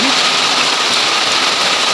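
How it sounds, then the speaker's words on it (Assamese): Heavy rain with wind during a thunderstorm: a loud, constant rushing hiss fills the whole stretch with no pause or distinct thunderclap. "আৰু এতিয়া মানে লাহে লাহে বৰষুণটো আহি গ'ল, আৰু এতিয়া মানে বতাহো দি আছে"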